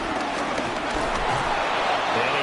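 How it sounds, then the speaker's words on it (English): Stadium crowd noise from the Madden 26 football video game swells as a dense, roaring wash during a big play, filling the clip from start to finish with no clear voices on top. "A big play here as the crowd noise rises."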